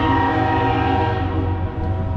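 A passing train in Matewan, West Virginia blares its horn in a loud, sustained, steady chord that holds close and strong throughout, with rumbling rail noise underneath.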